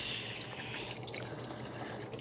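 Water trickles softly from a small garden pond waterfall, a faint continuous splashing and dribbling with no other sounds.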